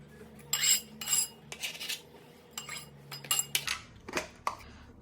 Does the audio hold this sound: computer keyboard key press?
no